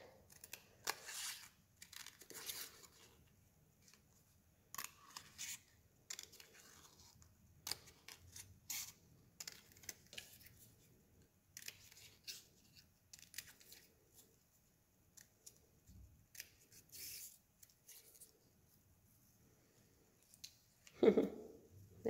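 Scissors cut out a paper star in a quiet room, with soft, scattered snips and paper rustles in short irregular bursts, faint and close, with no talking.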